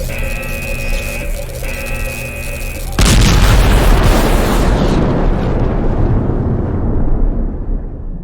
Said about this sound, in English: This thing is going to explode.